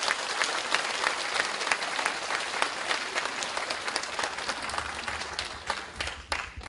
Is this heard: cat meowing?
no